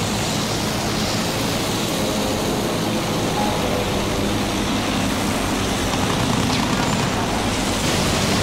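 A fighter plane roars through an aerial dogfight in Battlefield 1, giving a loud, continuous engine drone with dense noisy hiss that stays level throughout with no talk over it.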